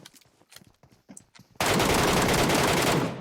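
MK rifle fire in PUBG Mobile: after soft, scattered sounds, a loud continuous burst of automatic shots erupts and holds steady for about a second and a half before cutting off.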